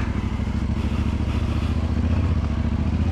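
A Yamaha Tenere 700 motorcycle with a 689cc engine rides over bumpy, potholed ground, its steady engine drone mixed with irregular clattering thuds from the suspension, close and loud with no talk.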